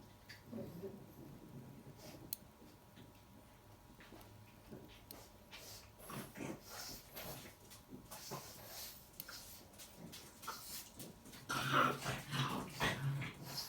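Several dogs growl, whimper and fuss in a workroom during a Seiko 6139-6005 Pogue watch service, a steady, scrappy noise throughout with some louder bursts near the end.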